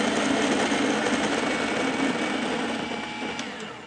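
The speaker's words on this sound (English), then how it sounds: "first we will grind without coffee" A Fellow Opus coffee grinder running empty with no beans, a steady close mechanical whir and hum that holds even for several seconds before easing slightly at the end.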